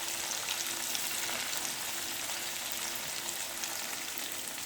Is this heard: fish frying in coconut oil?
yes